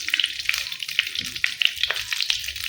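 Whole garam masala and bay leaves sizzle loudly in hot oil, a close, crackling fry with small pops and no voices.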